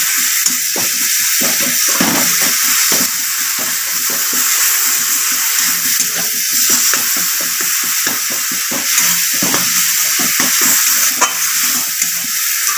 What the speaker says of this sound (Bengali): এবার আমি খুন্তি দিয়ে টমেটোগুলো একটু গলিয়ে নেব